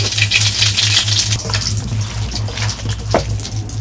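Cumin seeds hit hot oil in a village kitchen, a loud close crackling sizzle with bursts of popping spatter over a low steady hum.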